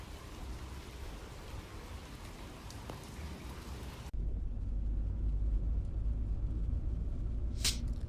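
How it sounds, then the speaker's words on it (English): Steady rain patters on a car windshield in a video game, a soft static-like hiss that shifts abruptly to a deeper, rumbling texture midway, with a brief brighter swish near the end. "Raindrops falling onto the windshield sound almost like the static noise you hear on TV."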